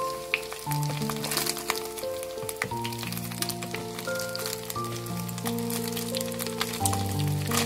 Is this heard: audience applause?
no